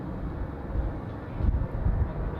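An airliner takes off at Zurich Airport, heard as a steady, distant, low jet roar with some wind noise and a slight swell in the middle, and no voices.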